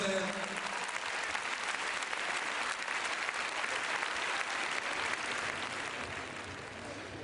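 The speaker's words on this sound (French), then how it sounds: "vous devez aussi l'applaudir en cadence" A standing crowd at the Bordeaux show jumping arena claps along in rhythm, a broad, sustained wash of applause that stays steady and fades slightly toward the end.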